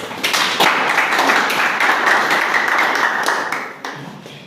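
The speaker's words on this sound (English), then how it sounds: "please, can we clap?" Audience applause at a school event fills the space, a dense steady wash of many hands clapping close and loud, thinning and fading toward the end.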